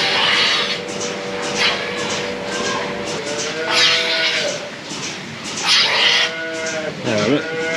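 Dairy herd of cows in a busy milking parlour during afternoon milking, with repeated bleating and lowing calls rising and falling over a constant mechanical hum and clatter, with occasional people talking in the background.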